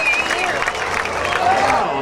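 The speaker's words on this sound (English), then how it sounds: "How about a little round of applause for our Cowboys here tonight?" A rodeo crowd applauds its cowboys at the Willits Frontier Days, a steady wash of clapping and some cheering from the stands, with an announcer's voice talking over it.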